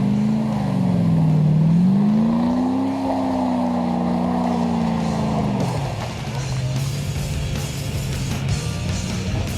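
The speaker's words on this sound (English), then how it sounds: "Andre takes a rollback and twists the V8 engine's ear a bit more" A Jeep's big V8 engine revs up and down in slow rising and falling swells during an off-road 4x4 challenge, loud and close, then settles into a rough idle with some rattling.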